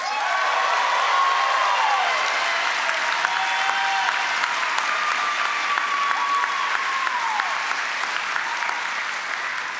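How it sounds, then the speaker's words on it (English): Dense, steady applause from a large audience at a medical school commencement fills the whole stretch at an even level, with a faint voice coming through underneath. "you don't have to hold your applause for them"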